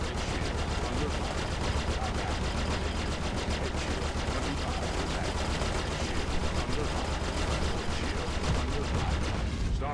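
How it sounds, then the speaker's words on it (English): Ship weapons in the Star Citizen space game, likely a Saber against a Super Hornet, firing in a dense, loud, continuous rapid-fire barrage of rattling shots with a low rumble beneath, sustained for the whole stretch. "Starboard shield under fire."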